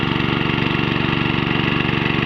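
A small water pump engine runs steadily out in a rice field during a roadside repair, a close, even mechanical drone with a fast regular firing pulse and no talking over it.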